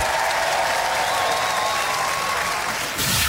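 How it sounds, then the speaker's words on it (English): A Robot Wars studio audience breaks into loud, steady applause for a competing robot team, the dense clapping filling the room without pause and swelling again briefly near the end. "Let's have a round of applause for Suicidal Tendencies."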